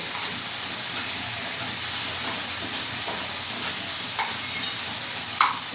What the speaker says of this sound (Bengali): এবারে মাংসটা ভালো করে কষিয়ে নেব